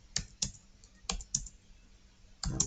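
A few separate, firm keystrokes on a computer keyboard while data is entered for a sorting program, spaced irregularly and then a quick burst at the end, close and clear with no voice.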